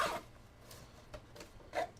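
The zippers on an Aochuan carrying case for a Smart G1 action camera gimbal make a few short, faint zips separated by quiet pauses.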